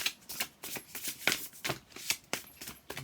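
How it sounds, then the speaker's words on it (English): Urban Crow Oracle cards, larger than standard but shorter than tarot, being shuffled by hand in a steady series of close, crisp riffling bursts. "Again, nice to shuffle."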